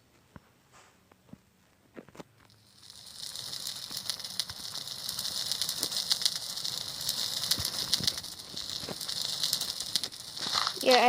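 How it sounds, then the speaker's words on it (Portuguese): A bonfire burns in a Minecraft-style game, giving a steady crackling hiss that starts a few seconds in and continues, with scattered pops, and no talking. "Fico olhando queimar a fogueira."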